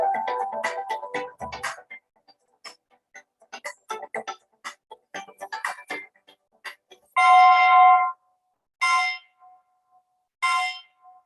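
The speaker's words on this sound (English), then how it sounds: "I will just ring the bell." A bell rings to open an investor week ceremony at GIFT IFSC, several bright clear strikes with ringing decay, the last few louder and spaced apart, following a stretch of softer tapping and clinking.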